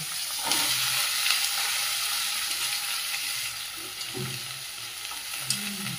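Radish and eggplant fry in hot oil with a constant, loud sizzling hiss, punctuated by a few soft stirring scrapes against the pan.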